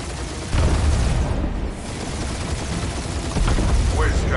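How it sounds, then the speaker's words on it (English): Dense, continuous bursts of gunfire and booming blasts from guns in the Guardians of the Galaxy video game, loud and chaotic throughout with barely a pause. "Feel free to point the guns right at him and charge."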